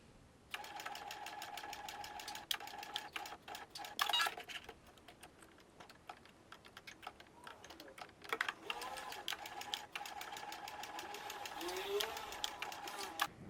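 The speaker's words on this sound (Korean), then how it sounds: "이제 재봉틀로 라벨을 달아줄게요." A sewing machine stitches a label onto fabric for a zipper pouch, running in quick rapid-fire stitching bursts, pausing between runs, with a longer stretch of steady stitching near the end.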